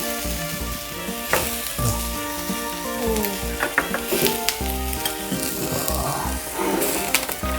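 Beef fries in a pan at a country home dinner, a loud continuous sizzle with crackling pops and stirring clatter throughout.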